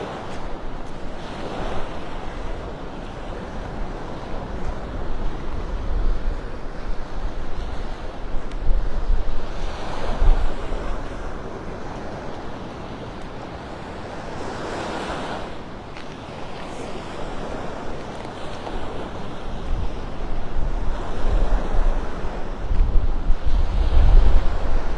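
Strong wind and rolling surf on Vanderbilt Beach in North Naples, Florida, a steady roar of breaking waves with gusty wind buffeting the microphone, loud and continuous with no voices.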